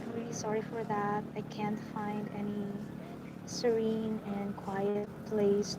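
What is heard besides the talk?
None of the usual background noises is heard.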